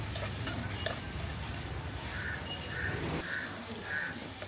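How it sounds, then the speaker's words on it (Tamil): Tomato, onion and green chili sautéing in oil, a soft continuous sizzle with stirring scrapes and a few light clinks, fairly faint and close, no talking. "தக்காளி, வெங்காயம், பச்சை மிளகாய் எண்ணெயில நல்லா வதங்கட்டும்."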